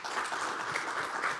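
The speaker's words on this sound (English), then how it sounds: "let's give him a round of applause" Short burst of audience applause at a school leadership project dissemination event, a soft, steady patter of clapping hands heard at a moderate distance.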